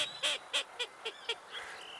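Widgeon duck call from the Duck Dynasty video game: a series of six short, evenly spaced whistling quacks, bright and close, followed by a softer, drawn-out call at the end.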